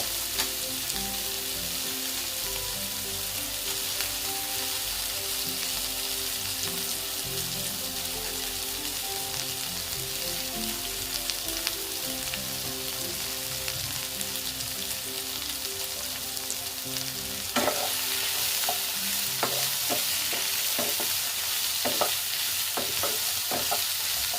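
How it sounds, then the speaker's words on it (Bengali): Small soybean chunks frying in a pan, with a steady sizzle and a continuous run of scraping and stirring strokes that grow sharper and more clattery toward the end. "ভেজে নিচ্ছি"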